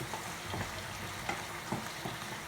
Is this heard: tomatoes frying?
yes